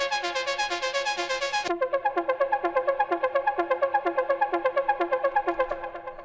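A bright Ableton Wavetable techno synth preset chord holds briefly, then a bouncy, evenly pulsing synth pattern repeats in a fast electronic rhythm, close and clear.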